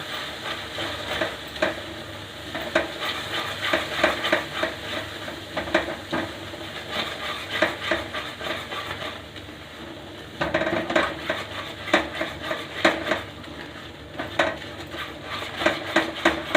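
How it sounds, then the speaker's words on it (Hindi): Besan halwa is stirred in a pan after sugar syrup is added, with repeated scraping and clattering of a spoon against the metal pan over a soft sizzle, in steady close-up rhythm. "अब इसमें हम चीनी के घोल को डाल देंगे और चलाते रहेंगे"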